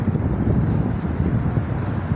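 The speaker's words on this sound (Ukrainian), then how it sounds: "Вітер такий піднявся холодний." Gusty wind buffeting the microphone with a constant low rumble, brief and unbroken.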